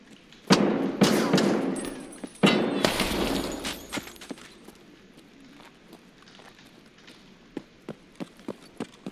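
Gunshots in a first-person shooter: a few loud bursts of fire near the start, then a scattering of sharp single cracks and clatters that fade toward quieter, isolated hits.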